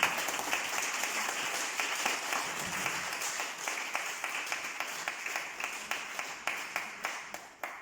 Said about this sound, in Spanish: permitidme pedirles un aplauso para que cuando Rosa nos oiga, sepa que nos hemos acordado de ella